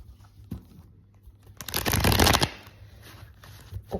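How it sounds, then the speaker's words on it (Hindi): Tarot cards being shuffled, a brief burst of rapid riffling and flapping card sounds close by, with a few soft taps before and after in an otherwise quiet room. "One more shuffle."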